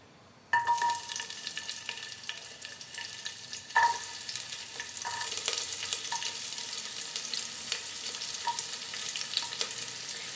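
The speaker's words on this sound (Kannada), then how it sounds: "ಈರುಳ್ಳಿ ಚೆನ್ನಾಗಿ ಫ್ರೈ ಆಗಬೇಕು." Steady, close sizzling of chopped onions frying in hot oil. A few light clinks from stirring run under the sizzle, which continues without a break.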